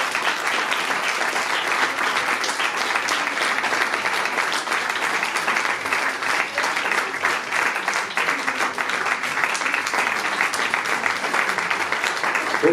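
Steady applause from a crowd at a fashion show parade in Dijon, dense continuous clapping filling the whole stretch at an even level without pause.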